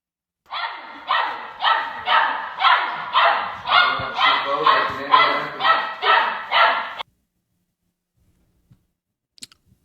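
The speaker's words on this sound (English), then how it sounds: "we have a trainer who is letting a puppy just cry it out" Crated puppy crying and barking in a rapid run of about a dozen loud, high yelping barks with whimpering tails, then silence with a few faint clicks.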